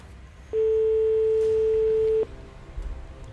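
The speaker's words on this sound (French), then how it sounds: "Deuxième sonnerie." A single steady electronic telephone ring tone sounds for under two seconds, clear and alone against a quiet background.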